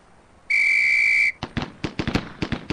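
A single sharp, sustained drill whistle blast, loud and steady for under a second, in the Police Quest SWAT video game, followed by a rapid string of close, punchy gunshots from a semi-automatic weapon at an indoor range.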